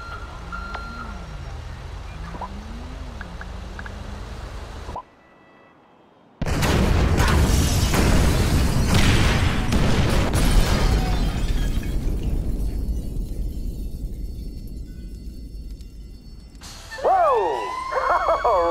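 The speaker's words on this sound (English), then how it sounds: "Detonate the incendiaries, Frank." Incendiary explosives set off in the GTA V video game: a sudden, loud, broadband blast roars and rumbles for several seconds, then fades. Beeps and a siren sound before it, and warbling alarm tones follow.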